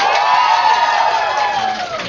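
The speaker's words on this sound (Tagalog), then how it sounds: "Sumigaw nga at pumalakpak yung mga galing pa ng Pangasinan." A crowd at an RDO gathering in Baguio City, including visitors from Pangasinan, cheers and shouts together in a loud, sustained roar of many voices lasting about two seconds.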